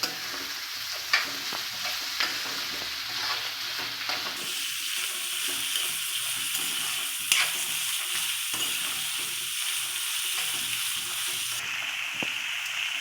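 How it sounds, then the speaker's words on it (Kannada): Hyacinth beans (avarekai) fry in a pan, giving a continuous close sizzle broken by frequent clicking stirs and scrapes of a spoon against the metal. No one talks. "ಇದರ ಜೊತೆ ಅವರೆಕಾಯಿ ಕೂಡ ಹಾಕ್ಕೊಂಡು ಹುರ್ಕೊಳ್ಬೇಕು"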